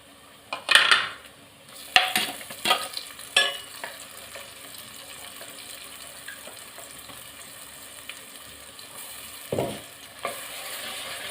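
Garlic and spices sautéing in a pan for garlic kulambu, a low steady sizzle broken by several sharp clinks and scrapes of a spoon stirring against the metal, with a few quieter stirring knocks later on.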